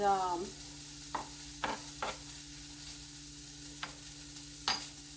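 Chives sizzling and frying in a pan over a steady hiss, with several distinct stirring scrapes at uneven intervals and a low electrical hum underneath.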